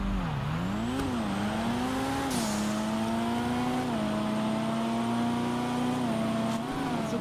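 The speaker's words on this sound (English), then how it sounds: "So me and Ratbox, this is for number 1, and hopefully my Supra can come through." Toyota Supra race car in GTA 5 revs steadily with shifting engine pitch, a continuous loud drone that rises and settles through gear changes, with no talking.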